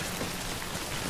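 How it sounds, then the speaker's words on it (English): Steady rain falls in the video game Death Stranding, a dense, even hiss of drops pattering on surfaces with no break and no voices. "Good thing it was raining."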